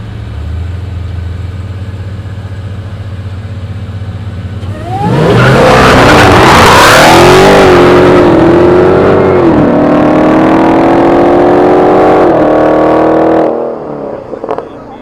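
Street race cars accelerate hard at a Friday night car meet, a loud engine roar building suddenly and revving up through the gears for several seconds, with a brief tire screech, before fading, over background crowd noise.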